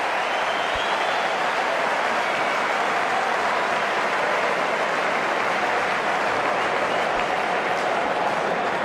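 Applause and cheering roll steadily through a cricket Test crowd after a six is hit, Australia against New Zealand, a dense continuous wash of clapping with no pauses over the whole stretch.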